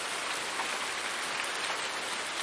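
Steady, dense rain in Farming Simulator 19 patters evenly on surfaces with no break, a continuous hiss of close drops and no voices.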